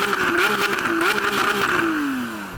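Lamborghini SVJ engine revving for a sound check before a drag race against a McLaren 720 and 911 Turbo S, a loud, high, rising and falling engine note held close, easing off toward the end.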